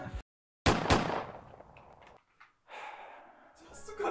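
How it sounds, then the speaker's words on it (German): A gunshot sound effect for a missed shot, a sudden loud bang that decays over about a second, followed by a voice speaking. "Hast du gerade daneben geschossen?"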